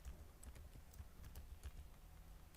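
Faint, close tapping on a computer keyboard, a steady patter of soft key presses at an uneven pace with no voices.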